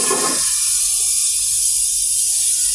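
Eggs dropped into hot spice paste for egg korma, a brief burst of sizzling that settles into a loud, steady frying hiss close by.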